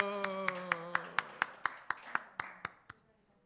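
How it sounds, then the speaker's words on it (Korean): A run of about twelve crisp, evenly spaced hand claps in a church service, near and distinct, ringing briefly in the room over a fading sustained musical tone, then stopping. "박수."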